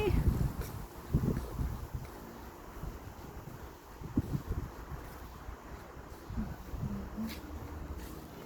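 Outdoor wind gusts buffet the microphone in uneven low rumbling surges that rise and fall over a soft steady hiss.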